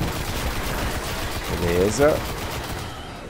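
Gunfire from the Destiny beta campaign on Xbox One, a burst of game shots mixed with someone speaking over it, plus a brief electronic tone near the end.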